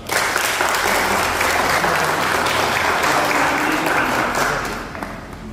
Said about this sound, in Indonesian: Terima kasih dan kita berikan aplaus.